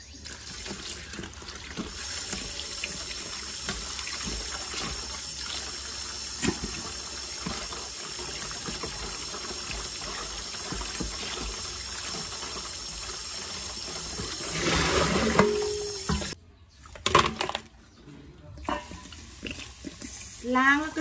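Shrimp being washed and then soaked in freshly opened soda water, with steady running water and splashing in a sink throughout, close and continuous, followed by a few brief clatters near the end.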